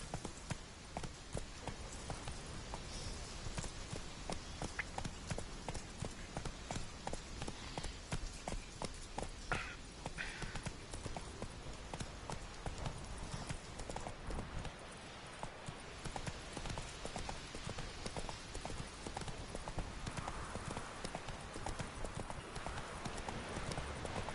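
Steady clip-clop of a horse's hooves in a video game, a continuous trotting rhythm that runs the whole stretch, close and prominent over ambient game sounds.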